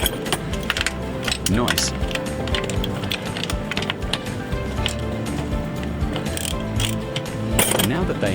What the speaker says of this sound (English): Just snap the kickdown cable bracket and move it aside.